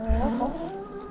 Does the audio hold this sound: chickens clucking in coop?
yes